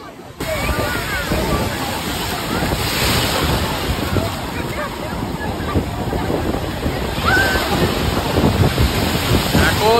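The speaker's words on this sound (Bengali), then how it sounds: "হ্যাঁ বিরাট ঢেউ ভাই" Big sea waves break on the shore in a continuous loud roar, with heavy wind buffeting the microphone throughout.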